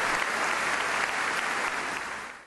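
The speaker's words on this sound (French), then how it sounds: "Un fort applaudissement pour elle" A church congregation breaks into steady, full applause, dense and sustained throughout before tapering off slightly at the end, with no voices over it.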